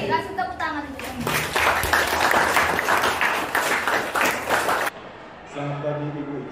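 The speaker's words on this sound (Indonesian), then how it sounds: "Kasih tepuk tangan untuk semua." A classroom group in an Indonesian school claps together for several seconds, dense and fairly close, with a voice talking before the clapping and again after it stops.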